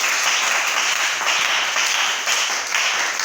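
A church congregation applauding the Lord during a worship service, a dense, loud burst of many hands clapping together that runs unbroken for a few seconds.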